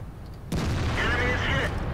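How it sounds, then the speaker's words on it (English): A tank's ammo rack detonates in World of Tanks, a sudden loud boom that lingers as a rumbling roar with crackling debris for over a second, alone and close. "Oh, an ammo rack, first shot."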